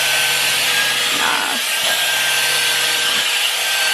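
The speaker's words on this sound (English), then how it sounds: "Now, I would actually vacuum next." A vacuum cleaner runs steadily and loudly up close, a constant broadband roar with brief shifts in pitch as it is pulled across a surface, no talk over it.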